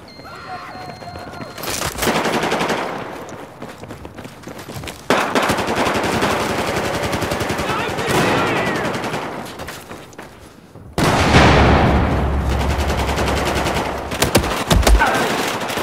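Battlefield 4 game audio with rapid, loud bursts of automatic machine gun fire. Several sustained fusillades are broken by short pauses, and distant shots can be heard in between.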